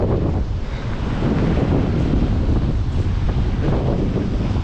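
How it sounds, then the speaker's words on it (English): Strong hurricane wind roars and buffets steadily across an exposed stretch of coast at sunset, a loud continuous rush of gusting noise battering the microphone with no voices. "It's still pretty windy though."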